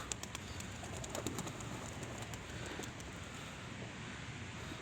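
Pigeons coo and call outdoors on a snowy winter morning in Russia, perched around a building; soft steady bird calls under continuous wind noise, fairly close and even throughout.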